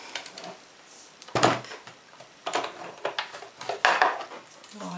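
Paper being cut out around a flower stencil for card backgrounds, a string of short crisp snips and rustles with irregular spacing, close and fairly quiet, no talking.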